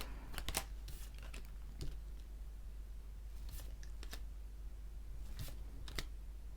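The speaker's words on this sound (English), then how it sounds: "So let's lay out the last cards." Tarot cards laid out one by one on a table, giving soft, sparse slaps and brief papery flicks in small clusters, close and quiet against a steady low hum, with no talking.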